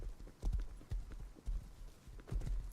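Horse hooves clip-clop in the video game Rust, a run of distinct thudding steps in an uneven gait, close and fairly quiet, with no talking over them.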